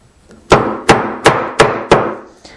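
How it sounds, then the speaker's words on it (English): A mortise chisel struck by a mallet while chopping a mortise in wood, five sharp, loud, evenly spaced thwacks, each with a short ringing decay, followed by a softer tap. "as I chop this mortise, I start out by trying to do as much as I can with the mortise chisel"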